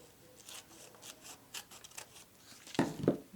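Scissors cut scrap paper along score marks in a series of soft, close snips, finishing with two louder, sharper cuts.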